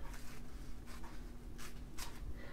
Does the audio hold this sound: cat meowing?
no